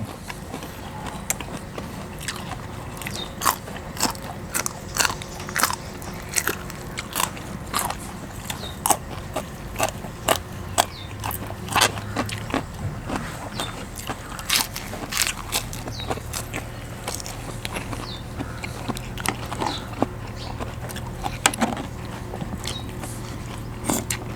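Crunchy lotus root salad with fresh shrimp, Thai-style pounded tam, being chewed, giving sharp repeated crunches in an irregular rhythm over a low background hum, close up.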